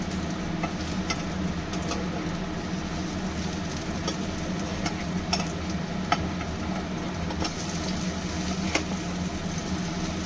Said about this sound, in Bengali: এইভাবে আমি পুরোটাই বড়া ভেজে নেব।